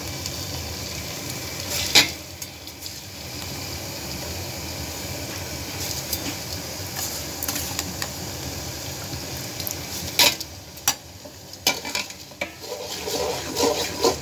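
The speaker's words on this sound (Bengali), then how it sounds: "চালটা দিয়ে নাড়াচাড়া করে একটু ভেজে তারপর পানিটা দিব।" Pulao rice is stirred and fried in oil with fried onions in a pot, giving a steady close sizzle broken by clacks and scrapes of a spatula that grow busier toward the end.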